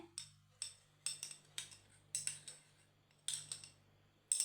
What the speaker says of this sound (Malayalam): ഞാനൊരു അര സ്പൂൺ കോഫി പൗഡറാണ് ഇതിലേക്ക് ചേർത്ത് കൊടുക്കുന്നത് എന്നിട്ട് നന്നായിട്ടൊന്ന് മിക്സ് ചെയ്യുകയാണേ